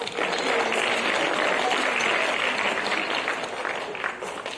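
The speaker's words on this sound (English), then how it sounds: "Let's give everyone a round of applause." Audience applause at a school awards ceremony after academic award winners are congratulated, a dense, steady wash of clapping from a large crowd that holds loud throughout and eases slightly near the end.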